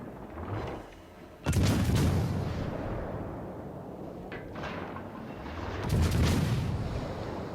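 In World of Warships Legends, the German tier 6 cruiser Weimar trades naval gunfire and high-explosive shells in a ranked battle: two heavy booming salvos roll out with long rumbling tails over a constant engine-and-sea drone.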